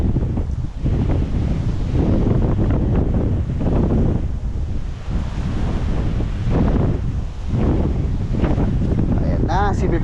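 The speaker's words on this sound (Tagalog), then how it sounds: "Malakas ang hangin." Strong wind gusting by the sea, a loud, steady roar buffeting the microphone in surges and lulls, with voices briefly audible beneath it.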